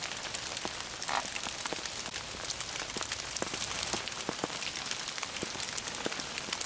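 Rain falls on a surface in a close, even patter of countless small drops, with sharper individual ticks scattered throughout and no voices.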